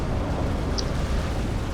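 Naval gunfire in a Supreme Commander Forged Alliance battle between Aeon and Cybran navies, heard as a steady, loud low rumble of continuous distant explosions and booms with no clear separate shots.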